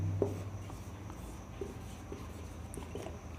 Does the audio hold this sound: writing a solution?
yes